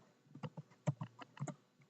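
Faint, close computer keyboard typing while writing Unity code, with a short irregular run of soft key clicks and brief gaps between them.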